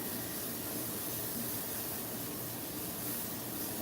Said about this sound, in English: I'm gonna put you some humidity spray on